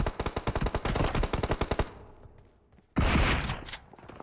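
Rapid automatic gunfire in the mobile shooter PUBG Mobile, a loud close burst of about twenty shots that fades out, then after a short pause another heavy blast with a trailing rumble.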